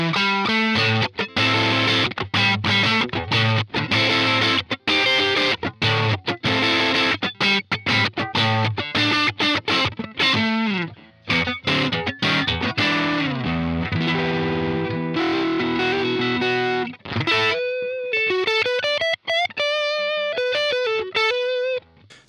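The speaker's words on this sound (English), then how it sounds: "Definitely got that kind of really almost fuzz-like sound in that mode" Electric guitar played through an EarthQuaker Devices Plumes overdrive pedal in a fuzz-like gain mode, thick distorted chords strummed continuously and loudly, ending with a few sustained, ringing single notes.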